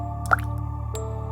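Two water drips fall in a restroom at night, a sharp close plop followed by a softer second drip about half a second later, over a steady low hum.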